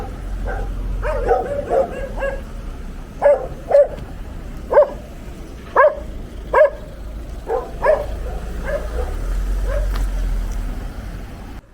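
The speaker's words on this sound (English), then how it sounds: "There's lots of crazy dogs barking at absolutely everything." Several dogs bark repeatedly at everything in sight, sharp yapping barks arriving in irregular bursts at moderate distance over steady low outdoor rumble, with no talking.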